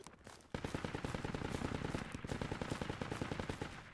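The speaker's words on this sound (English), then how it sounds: "Toya, you hear him shooting? Just to your north?" Nearby enemy gunfire in Project Reality, a rapid sustained burst of automatic shots in a fast even rhythm, starting abruptly after a short lead-in and continuing to the end.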